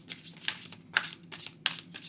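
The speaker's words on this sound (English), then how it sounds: "Shuffle these real quick." A deck of angel number cards is shuffled by hand, giving several quick papery riffling bursts in an uneven rhythm, close and fairly quiet with no talking.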